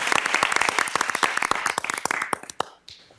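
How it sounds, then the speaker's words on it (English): Audience applause at a Greater Dubuque Development Corporation quarterly update: a dense, loud burst of many hands clapping close by that holds steady, then thins out and fades to quiet near the end. "let's give them an applause and thank them for coming this evening"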